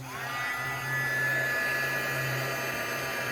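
A hair dryer blowing on paint, a steady close whirring roar with a high motor whine that ramps up at the start and holds level throughout.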